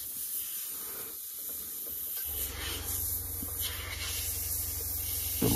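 An airbrush sprays paint onto an MPC Slave 1 model kit, a soft steady hiss that swells into a stronger, continuous airy spray with a low compressor hum underneath, close and alone.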